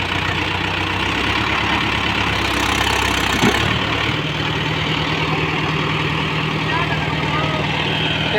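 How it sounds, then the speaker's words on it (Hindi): Tractor engine idling steadily in a farm field where the vehicle is stuck, a constant close rumble running throughout with a brief knock near the middle. "ट्रैक्टर कालू फसी जाइए"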